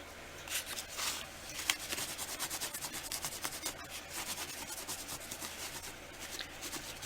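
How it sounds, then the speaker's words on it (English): Light rubbing over a metallic silver finish on a steampunk altered book, a soft, steady, close scuffing that repeats in quick strokes for several seconds, with no voices. "Just going to give it a light buffing."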